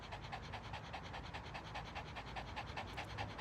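A dog pants rapidly and steadily throughout, a fast rhythmic huffing breath heard close to the microphone at moderate volume, with no talking.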